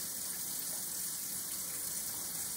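Soapy hands are rinsed under a running kitchen tap, a steady close hiss and splash of flowing water with no voices.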